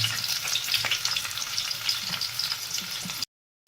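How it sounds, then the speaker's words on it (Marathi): Onions frying for veg biryani sizzle steadily in a pan while being stirred, a continuous close hiss with soft scraping strokes, cutting off abruptly near the end. "आता मस्त हलवून द्यायचे कांदा एकदम भाज्याचा भाजला पाहिजे"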